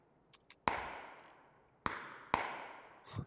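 Gunshots ring out in a PUBG match: three sharp, separate cracks, each trailing off into a long echoing decay, with a few faint softer pops before them. Heard at a moderate distance, without talk.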